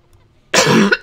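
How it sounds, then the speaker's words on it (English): A single person's cough, close and loud, one short harsh burst with a brief second catch at the end, alone without talk. "I got a cough I can't get rid of."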